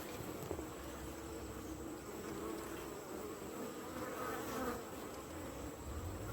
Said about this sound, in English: They're coming in with their legs real heavy with this pollen substitute that I give them there.